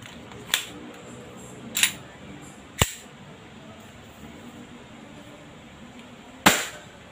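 WE G17 airsoft gas blowback pistol fired over a chronograph, four sharp snapping shots spaced a second or more apart, close and clear over a quiet background hiss.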